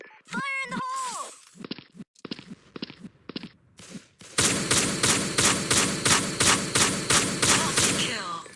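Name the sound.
shotgun gunfire in a zombie shooter video game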